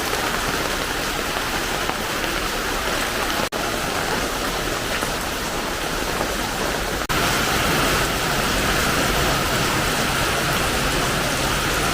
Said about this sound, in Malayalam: സൂപ്പർ മഴ ഇത്ര നേരം തെളിച്ചതായിരുന്നു